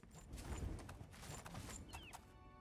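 Horse hooves clip-clop in Oblivion, a quick run of close, soft thuds at an uneven walking pace with faint game sounds behind.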